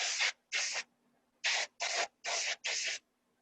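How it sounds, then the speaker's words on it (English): A spray gun spraying ceramic glaze under the handle of a pot gives six short hissing bursts in an uneven rhythm, close and moderately loud, with quiet gaps and a faint steady hum between them. "When I spray under the handle, it's always easier to do it with the pot in my hands as opposed to sitting."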